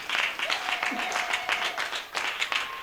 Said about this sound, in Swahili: Ongeza makofi.